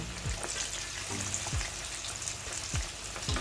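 Flour-dusted beef and lamb pieces fry and brown in hot oil for a stew, giving a steady, dense sizzle with a few low thuds from the pan; no one speaks.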